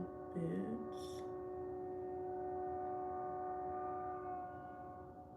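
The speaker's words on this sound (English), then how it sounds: "my window is open and a train is passing by. If you can hear the honking" A train passes by an open window, its horn blaring in a long, steady, faraway tone that holds for several seconds and fades near the end, after a couple of brief noises at the start.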